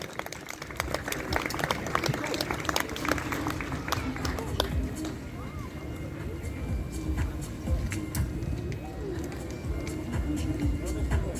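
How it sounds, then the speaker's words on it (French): Spectators at a fire service rescue demonstration in perilous environments clap for the team leader outdoors, scattered uneven claps mixed with crowd murmur and voices, fairly loud and continuous for several seconds. "on peut l'applaudir"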